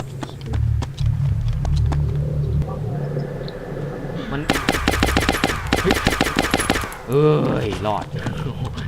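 Close, rapid automatic AKM rifle fire in the DayZ video game, a long burst that nearly empties the magazine, following quieter in-game footsteps and ambience, with a player talking over it.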